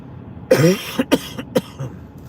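A close, raspy cough followed by several short, sharp coughs in an uneven rhythm, loud and up close with no talking.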